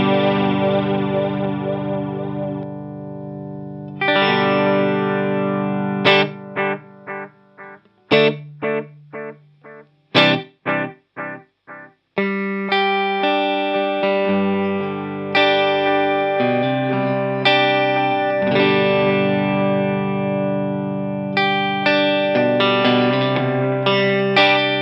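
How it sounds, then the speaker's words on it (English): Electric guitar through a Harley Benton D-Seed delay pedal on copy and analog settings: sustained chords, then short staccato stabs and melodic phrases, each trailed by repeating echoes, played close and loud with no talking. "Let's try out the analog setting. I'll continue with the copy setting and then switch."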